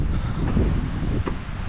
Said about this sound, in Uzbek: shamol ham bo'lyapti uni ustiga.